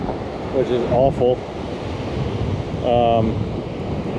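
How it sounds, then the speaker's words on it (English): Strong wind blows across the microphone on a beach on Tybee Island, Georgia, during surf fishing, a continuous rushing roar with surf beneath it; a person talks briefly over it. "the wind has definitely picked up in my face"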